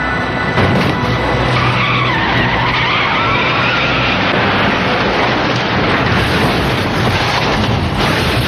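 A car skids loudly in a roadside crash, a long continuous screech of tyres over dense broadband road and wind noise that fills the whole stretch without a break.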